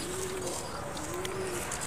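Pigeons on an eighth-floor rooftop give two smooth, low coos in a row over a steady wash of outdoor background noise, close and clear.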